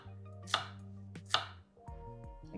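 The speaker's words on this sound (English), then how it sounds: "Carrot is chopped." A knife chopping carrot on a cutting board in a home kitchen, two crisp, close cuts about a second apart over a low steady hum.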